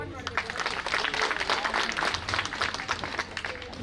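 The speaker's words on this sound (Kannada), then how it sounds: "ಎಲ್ಲರೂ ನಿಮಗೆ ನೀವೇ ಜೋರಾಗಿ ಚಪ್ಪಾಳೆ ತಟ್ಟಿ" An audience at a millet and traditional-dishes cooking competition claps together in sustained, dense applause lasting the whole moment, with some voices mixed in.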